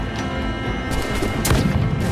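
An explosion during a naval battle in Assassin's Creed Black Flag, a loud broadband blast swelling near the middle and ringing out over dense game noise, with no talking.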